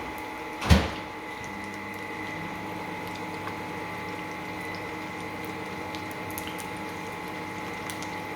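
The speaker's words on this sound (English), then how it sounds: "I'm going to go and stick that back in the microwave to get hot." A microwave oven reheats mee goreng with a steady, low electrical hum and fan drone after a single soft clunk near the start.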